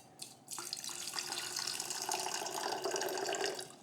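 Water running into a jar holding alfalfa and sunflower seeds to flood them for soaking, a steady continuous splashing pour lasting several seconds after a short drip at the start, close and fairly loud.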